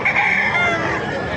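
Roosters crowing at a chicken market in Bocaue, Bulacan, loud and close, with overlapping calls and clucking from other fowl.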